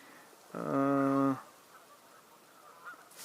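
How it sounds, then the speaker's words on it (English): A single loud Canada goose honk rings out once, clear and nearby, over a quiet outdoor background. "you can hear more Canada geese"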